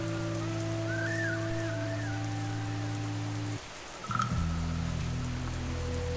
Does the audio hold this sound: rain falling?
yes